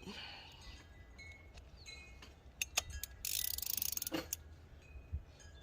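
A ratchet clicks while tightening a spark plug on a Ford Coyote 5.0 V8 in an F-150 or Mustang, with a burst of rapid ratcheting clicks midway among scattered tool knocks and clinks, close and fairly quiet.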